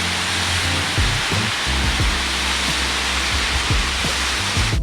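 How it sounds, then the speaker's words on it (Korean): A waterfall on a Seoraksan mountain trail in early autumn roars as a steady broadband rush, with a few faint thumps and rustles underneath. "와, 폭포가 있어요."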